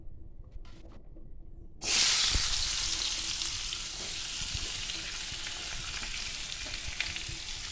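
Sliced onions dropped into hot oil in a pan where coconut was just fried for a pork curry, bursting into a loud sizzle that settles into a steady frying hiss after a quiet start.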